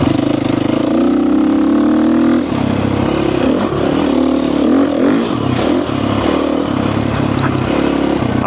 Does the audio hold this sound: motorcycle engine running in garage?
yes